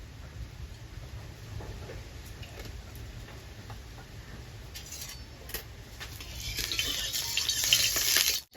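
Oil heats in a hot wok (kadai), a faint crackle and sizzle over a low rumbling background that grows louder and brighter near the end, with scattered light clicks.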